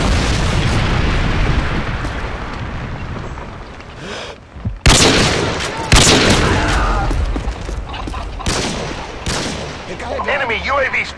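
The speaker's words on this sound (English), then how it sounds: "Friendly Predator missile incoming." Predator missile explosions and gunfire in the video game Modern Warfare 2: a dense, sustained barrage of loud rapid shots, broken by several heavy booming blasts, with brief in-game voices mixed in.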